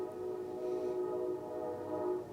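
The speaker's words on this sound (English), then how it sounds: "The train is passing, of course." Steady rumble of a passing train heard from indoors, with sustained tonal hum and faint wheel noise holding at an even, moderate level throughout.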